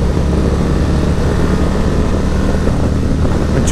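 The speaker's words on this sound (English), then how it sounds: "Enjoy some of that engine rumble" Steady, loud engine rumble from a Harley-Davidson Road Glide 117 motorcycle being pushed toward higher revs on the road, with a continuous low drone and wind buffeting the microphone throughout.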